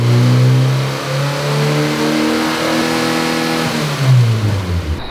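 A turbocharged Honda B18 engine hums under part-throttle load, its tone climbing and wavering, then dipping and surging louder near the end, close and continuous with no talking.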